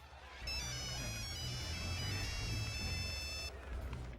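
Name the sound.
phone ringing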